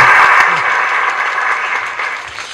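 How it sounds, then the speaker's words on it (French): An audience applauds steadily and fairly loudly at a podium ceremony for an albinism awareness foundation, a brief dense burst of clapping that eases slightly toward the end. "Madame Esther Fayoulou, que je vais vous demander d'applaudir"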